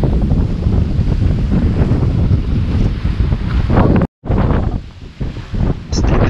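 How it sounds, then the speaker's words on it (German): Strong, roughly 20-knot wind roars across a sailboat off the south coast of Viti Levu, Fiji, with choppy waves washing beneath; the wind buffets the microphone constantly, cutting out for a brief instant. "Je weiter wir uns von der Küste entfernen, desto ruppiger und wilder wird das Meer."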